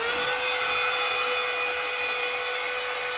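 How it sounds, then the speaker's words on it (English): A portable handheld vacuum cleaner runs at a constant, close, high-pitched whine with a broad airy rush of suction and no change in pitch throughout. "the suction's a lot better when you empty it"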